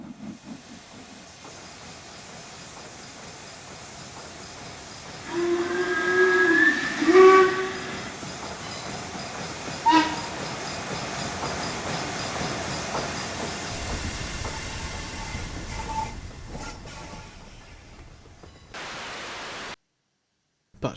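An LMS Jubilee 5XP Class steam locomotive in Train Simulator gives a sharp whistle over a steady rumble of running noise, with a second short whistle later and the engine sound holding steady before cutting out near the end.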